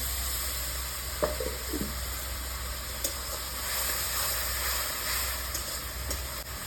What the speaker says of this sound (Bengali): ওই দিকে পেঁয়াজ ভাজা হয়ে গেছে কিন্তু বন্ধুরা পেঁয়াজ ভাজা হয়ে গেছে এবারে এখানে আমি রসুন কাঁচা লঙ্কা টমেটো পেস্ট দিয়ে দেবো